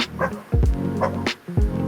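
A dog gives three short, loud barks in a steady rhythm, close by, each bark a sharp burst with a brief gap between them, and no talking over them.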